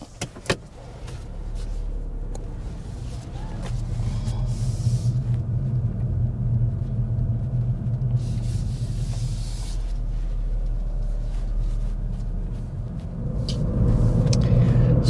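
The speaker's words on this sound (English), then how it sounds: "So here we are inside the Fiesta then, taking it for a drive." A 2022 Ford Fiesta ST on the road, heard from inside the cabin: a steady low engine and road drone that grows a little louder toward the end, with no talk.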